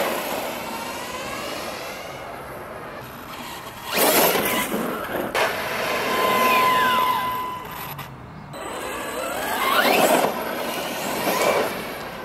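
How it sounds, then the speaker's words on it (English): An Arrma Big Rock 6s BLX brushless RC monster truck on its first drive, with a high electric motor whine that rises and falls in two strong bursts of acceleration over rough ground. "First ever drive with the Arrma Big Rock."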